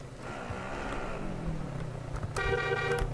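A car being driven in Call of Duty Warzone, its engine a steady low rumble rising slightly, with a short horn-like tonal burst near the end.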